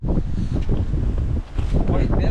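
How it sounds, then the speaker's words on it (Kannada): Strong wind gusting across an exposed mountain slope during a trek to Kumara Parvatha, loud and steady buffeting into the microphone throughout, with a brief lull midway before the rush returns. "ಗಾಳಿ ಬಡಿತಾನು ಜಾಸ್ತಿ ಇದೆ"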